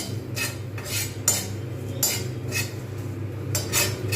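A pestle crushes cumin seeds and dried chillies in a small stone mortar. Gritty grinding strokes repeat in a steady rhythm, close up and fairly quiet.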